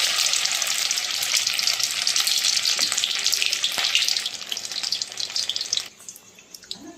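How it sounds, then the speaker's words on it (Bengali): Egg cutlets, made from egg on bread, fry in hot oil with a loud, steady hiss and crackle for about six seconds before the sound drops away to a quieter, sparse sizzle. "হালকা আছে একটা একটা করে ভেজে নিচ্ছি"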